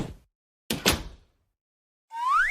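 A door in a Caillou parody, heard as a sharp thud followed by a short sliding scrape, then a rising whooshing sweep after a moment of silence.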